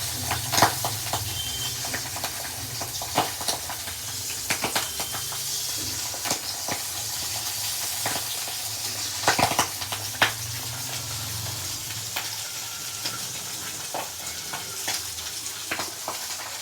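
Potatoes fry with salt and turmeric, giving a continuous close sizzle and hiss. Intermittent scrapes and clinks of stirring break through it.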